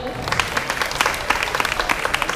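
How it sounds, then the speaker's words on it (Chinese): Crowd applause at an evening school concert, a brisk burst of many hands clapping close by for a couple of seconds, with no voices over it. "请大家掌声鼓励"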